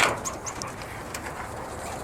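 Quail in a hutch coo softly in short, repeated calls at close range over a faint background hiss, with no talking.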